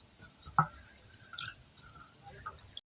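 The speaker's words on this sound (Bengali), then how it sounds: "যে জাল করে রেখেছিলাম সেই নারকেলটার থেকে আমি এখন দুধগুলো বের করে নেব।" Coconut milk squeezed by hand from grated coconut, quiet drips and trickles of liquid with a sharper splash near the start, close by and alone.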